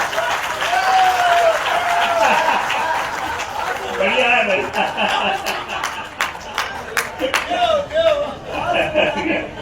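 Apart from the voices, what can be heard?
audience applause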